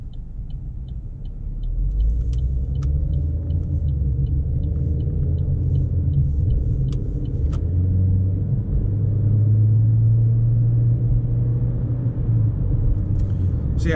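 A 2020 Chevy Trax with a 6-speed automatic accelerating on a road, heard from inside as a steady low engine and road rumble that swells slightly, with faint clicking over it.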